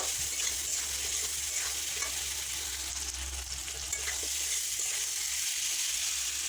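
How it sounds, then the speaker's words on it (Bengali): Chili powder, turmeric and salt cook in a pan for a fish curry with potato and ridge gourd, giving an even, soft hiss of frying with faint stirring, steady throughout with no voices. "তার মধ্যে অ্যাড করতে হবে ঝালের গুঁড়ো, হলুদের গুঁড়ো আর লবণ দিয়ে ভালোভাবে 5 মিনিট ধরে কষিয়ে নিতে হবে।"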